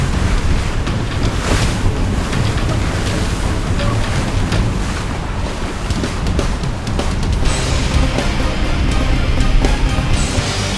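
Express 37 sailing yachts racing close together on windy water, with strong wind buffeting and waves rushing steadily throughout, occasional creaks and thumps of the boats audible under the constant roar.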